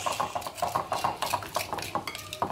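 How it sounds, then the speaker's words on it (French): Metal utensil stirring chicken with vinegar in a cooking pot, giving repeated close scraping and clinking against the pot in a steady, busy rhythm with no talk. "donc là je mélange, je mélange, je mélange, je mélange"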